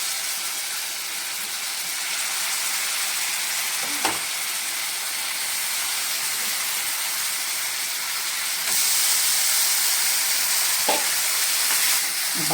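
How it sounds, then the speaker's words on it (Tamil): Marinated chicken legs sizzling in hot butter in a pan over high flame, a steady close frying hiss with a couple of soft clinks and a brief louder surge of crackle partway through. "பட்டரில் நாம் மேரினேட் பண்ணி வச்ச லெக்கை போட்டுக்கலாம்"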